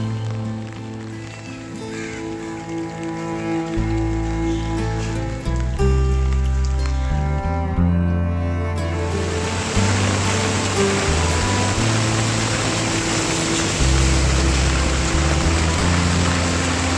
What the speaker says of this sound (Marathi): गेले दोन दिवस भरपूर पाऊस चालू आहे